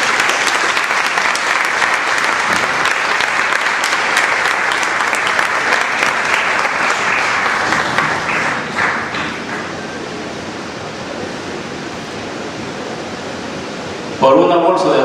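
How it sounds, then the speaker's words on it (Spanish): Audience applause at a book presentation of short stories, dense steady clapping for about nine seconds that then thins to a softer patter near the end. "Un aplauso para esta viejecita que está aquí."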